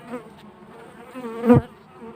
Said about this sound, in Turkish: Arı saldırgan değil. Gayet sakin bir arı.